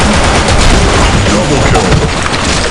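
Dense, loud weapon fire from the online shooter BlackShot on the Lost Temple map, a continuous roar of rapid shots and booms packed together with no gaps, close and saturated throughout.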